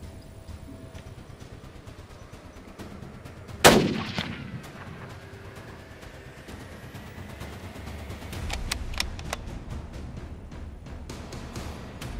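A single loud rifle shot on a buffalo hunt in the South African bush, a sharp crack with a rolling echo, followed by quieter rustling and clicks.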